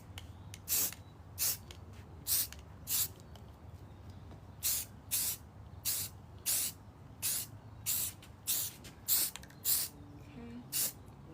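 Short bursts of an aerosol spray can coating spice jar lids, about fifteen evenly paced hissing puffs, close and distinct over quiet room noise.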